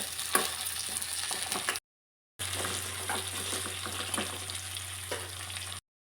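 Tomato frying for rasam in a hot pan with oil, a steady sizzle and crackle, close and moderately loud, broken by a short silent gap midway.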